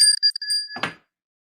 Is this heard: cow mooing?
no